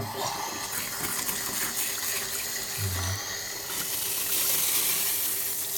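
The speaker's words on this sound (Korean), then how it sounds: "어느 정도 됐다 싶을 때 물을 틀어봐가지고 테스트를 합니다" Water running through a newly fitted shower hose during a leak test, a steady broadband hiss and splash that holds for several seconds and grows slightly brighter toward the end, with no talk.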